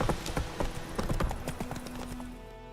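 Geralt's horse Roach trotting in the video game The Witcher 3, crisp, close hoof clip-clops in a quick uneven rhythm that thins out toward the end, over a faint low hum.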